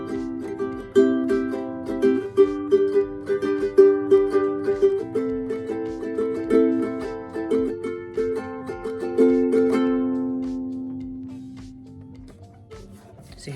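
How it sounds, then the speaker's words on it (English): A Dean concert ukulele is strummed and picked alone, bright plucked chords ringing in a steady rhythm before the final chord fades out slowly. "It is also a concert ukulele, and it sounds like this."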